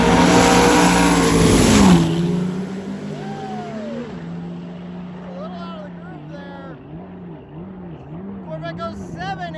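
A drag racing car roars loudly down the track for about two seconds and then fades away. An excited commentator talks over the sound and keeps talking after it is gone.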